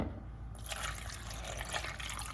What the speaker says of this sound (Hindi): इसमें ऐड कर देंगे पानी।